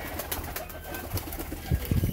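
Large Saharanpuri pigeons in a loft setup cooing softly, with several low, throaty coos near the end over faint background rustle and distant noise.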